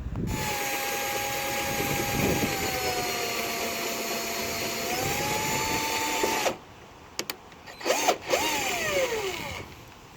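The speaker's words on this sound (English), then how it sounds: "Okay, so there's my first hole done." A power drill bores a hole for a body kit screw on a Lexus IS200, a loud steady whine that shifts pitch as it bites, then stops, followed by a few short bursts of the drill.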